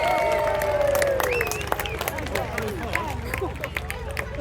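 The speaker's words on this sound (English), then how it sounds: "big round of applause please for our last parachutist" A crowd at an outdoor young farmers show claps for a parachutist who has just landed, a dense patter of applause with some cheering and babble. A loud announcer's voice carries over the opening moments.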